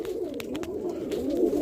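Stock roller pigeons coo close up inside a loft, with overlapping throaty, rolling calls running continuously through the short stretch, punctuated by a few soft knocks.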